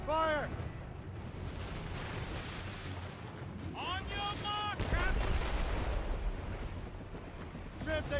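Ship cannons boom in broadside volleys during a naval battle in Assassin's Creed Rogue, over a constant rumble of sea and battle. Shouting voices break in at the start, middle and end.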